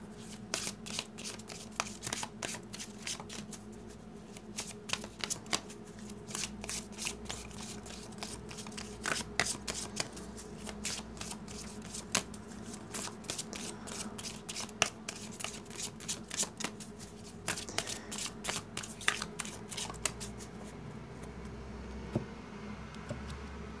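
A large Gypsy (Lenormand) card deck shuffled on a table, giving a steady run of crisp riffling and snapping card clicks throughout, close and moderately loud with no talking.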